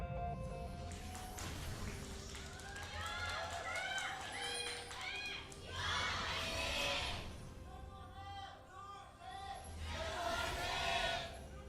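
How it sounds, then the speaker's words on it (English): A crowd at a League of Legends LCK Summer 2015 match between SK Telecom T1 and SBENU Sonicboom breaks into short swells of cheering under steady commentator talk. "And a last cheer for Dongjun, the commentator for the Korean cast"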